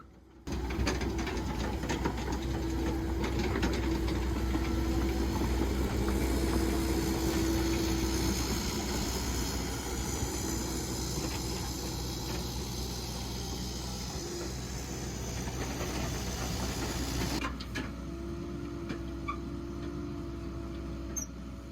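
A compact excavator's diesel engine drones steadily at idle, a constant low hum with a faint whine, continuing without pause and dipping slightly near the end.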